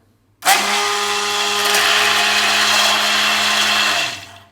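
A Carte FMX021T hand blender runs at its lowest speed, switching on abruptly into a loud, steady motor whir with a constant hum that holds for about three and a half seconds before winding down.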